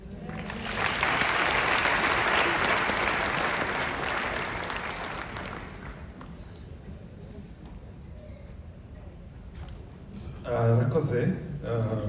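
A large gathering at a memorial ceremony in Dayton, Ohio claps in loud, sustained applause that slowly fades, then gives way to quieter room noise and a voice speaking.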